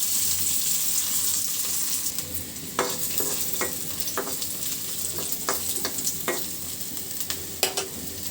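Chopped ginger and garlic sizzle in hot oil with dried chillies for begun bharta, a constant close frying hiss broken by scattered sharp clicks and taps of a spoon stirring the pan.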